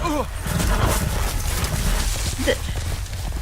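Hooves clop on hard ground amid busy background noise, with a short whinny near the start and another brief call later, in the Game of Thrones video game.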